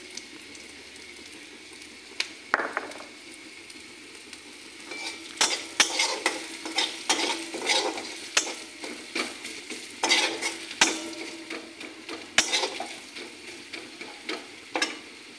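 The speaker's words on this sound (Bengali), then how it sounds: "মশলাটা ভালো করে কষে নিই।" Ground cumin and coriander stir-fried in a pan for a large-fish kalia: a soft, steady sizzle broken by repeated scraping and clattering strokes of a spatula against the pan, with no talking.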